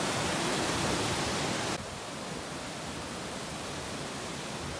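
Creek flowing near a trailhead in Jasper National Park, a dense steady rushing wash of water that drops slightly in level partway through, with no voices.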